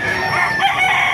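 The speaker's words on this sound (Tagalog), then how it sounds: "Papakita ko sa inyo mga manok dito sa Baliwag" A rooster crows loudly amid other chickens at a poultry market in Baliuag, Bulacan, the call rising over a busy layer of clucks and crowd noise.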